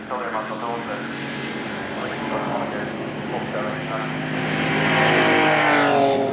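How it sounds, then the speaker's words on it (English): A 1950 Ferrari 166 Coupe with a 2-litre V12 at the Goodwood Festival of Speed gives a continuous, smooth engine drone rich in harmonics, holding steady and then swelling louder toward the end, with possible voices mixed underneath. "This jewel of a motor car is the 1950 166 Coupe. A V12 engine, of course, like all the best Ferraris, but of only 2 litres."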